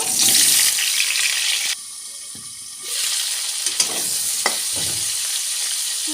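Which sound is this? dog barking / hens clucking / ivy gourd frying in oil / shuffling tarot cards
ivy gourd frying in oil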